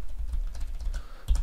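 Keys clatter on a computer keyboard while details are entered into bookkeeping software, a quick run of close, even taps ending in a louder burst of strokes.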